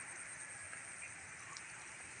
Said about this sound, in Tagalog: Umuulan po mga ka-Israel.